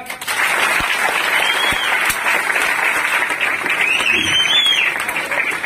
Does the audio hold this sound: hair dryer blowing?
no